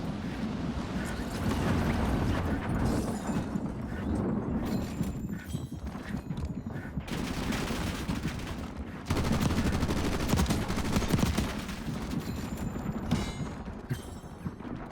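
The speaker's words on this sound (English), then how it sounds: "Listen to how much reverberation there is from gunfire and footsteps in a high tense situation." Bursts of gunfire and footsteps in the Warzone video game ring out with heavy reverberation, rapid crackling shots and hurried steps coming in dense clusters, briefly pausing and then resuming, loud and echoing.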